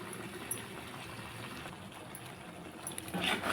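A thick mushroom curry bubbles and simmers steadily in a pan, a soft continuous burble with a brief louder stir of splashing near the end.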